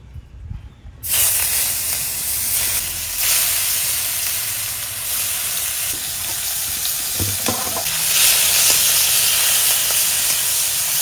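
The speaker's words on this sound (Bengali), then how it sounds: "মাছ ভেজে নিচ্ছি উল্টিয়ে পাল্টিয়ে" Red bhetki fish and prawns fry in oil in a wok, a steady loud sizzle and hiss filling the scene after a brief quieter start, with occasional stirring scrapes and no voices.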